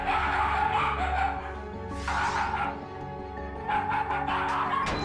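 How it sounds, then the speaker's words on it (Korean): Two pet dogs at home bark, yip and whimper in agitated bursts, close and fairly loud, over a steady tonal background. "하루에도 몇 번씩 으르렁거리는 녀석들."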